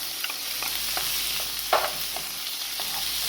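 Ginger, garlic and tomatoes stir-frying in a pan for vegetable fried rice: a continuous close sizzle with light scraping stirs and one brief louder knock, no talking.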